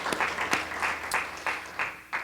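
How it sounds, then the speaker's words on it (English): Audience applause at a business convention, a short burst of steady clapping from a crowd with several sharper claps standing out, moderately loud and close. "give yourselves a round of applause for"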